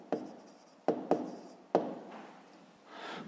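Pen writing an answer to a fifth-grade math exercise on paper, heard as a few sharp taps and short scratchy strokes, close and quiet, with a soft rustle near the end.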